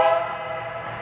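On a large O scale model railroad layout, a horn or whistle sounds once, a sustained tonal blast that fades into low running rumble.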